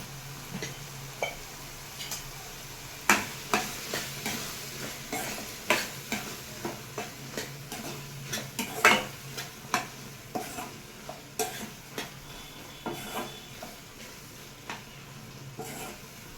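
Cucumber curry cooking in a pan is stirred again and again, with a long string of scraping, tapping spoon strokes over a low, constant sizzle of oil, close by and with no voices.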